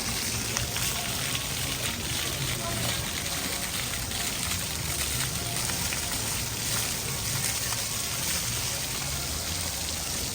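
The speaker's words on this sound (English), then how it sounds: "This is the splash pad pool here at our hotel at the DVC Tower." Splash pad pool water at a Disneyland hotel's DVC Tower, a steady broad hiss of spraying and splattering water that continues without a break, heard from close range.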